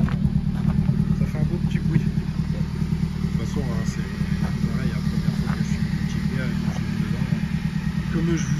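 A right-hand-drive Honda Civic Type R FN2 engine idles steadily with an even, low rumbling hum, close and continuous throughout, with a faint high whine above.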